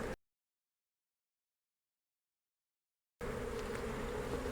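Honey bees buzz around an open hive during winter preparation, a dense, close hum that sounds briefly, cuts to silence for about three seconds, then returns loud and steady.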